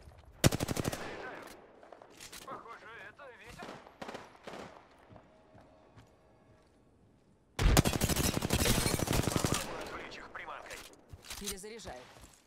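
Bursts of gunfire from the Apex Legends battle royale game, with a loud automatic volley at the start and another sustained volley later, while voice lines and talk fill the quieter middle stretch.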